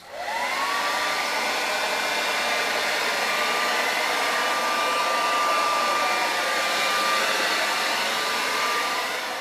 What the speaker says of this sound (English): Let's have some fun with the hairdryer.